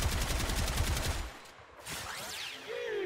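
Gotva Prime rifle fire in the video game Warframe: a dense, rapid burst of close, loud automatic shots for about a second, then quieter game effects and a rising whine.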